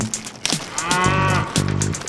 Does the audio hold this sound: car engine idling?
no